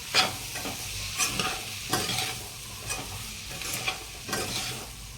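Bottle gourd muthiya with fresh coriander is stirred in a pan, with a run of regular scraping strokes over a soft background sizzle, close and moderately quiet, with no talking.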